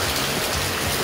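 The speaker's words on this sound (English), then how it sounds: "Still raining." Steady rain pours down around an awning on a street in Playa del Carmen, a dense, even hiss of drops close by with no pauses and no voices.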